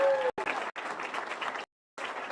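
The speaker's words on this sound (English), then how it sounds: "So give everybody who has waited patiently a round of applause." Audience applause at a ceremony marking a bowling alley's reopening in Lewiston, broken up by short gaps of silence, with a brief tonal squeal near the start.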